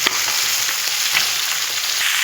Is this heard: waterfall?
no